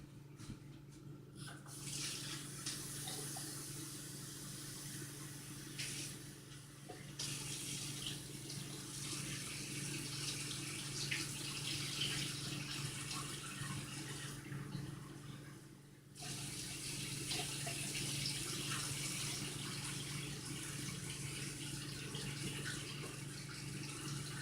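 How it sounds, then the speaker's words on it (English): A kitchen tap runs steadily to rinse blueberries, a continuous moderate rush of water into the sink that dips briefly partway through, with faint background hum and no talking. "And rinse these blueberries off."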